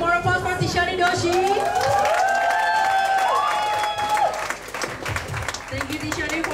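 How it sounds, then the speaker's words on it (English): A crowd at the Ubud Writers & Readers Festival in Bali applauds after a dance performance. Sustained clapping with whistles and cheers rises loud, then thins out as a voice speaks over the fading applause. "Can we get a big more applause for Tishani Doshi?"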